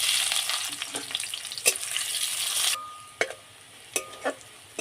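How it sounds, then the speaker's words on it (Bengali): Onions fry in hot oil after garlic, giving a loud, bright sizzle that suddenly drops to a quieter crackle, with sharp clicks and scrapes of stirring in the pan. "পেঁয়াজ ওই তেলে ভেজে নেব"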